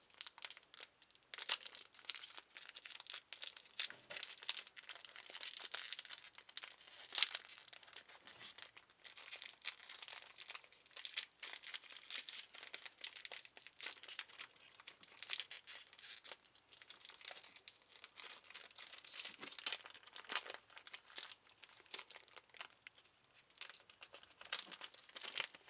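A Bakugan Battle Planet booster pack is torn open by hand. Faint, continuous plastic crinkling and small tearing sounds run close by throughout, with no voices.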